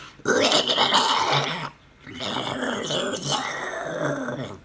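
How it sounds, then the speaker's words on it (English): Guttural growling zombie roars from the video game Dying Light 2, two loud throaty bursts separated by a short pause, raspy and close. "the roars, the zombie sound effects"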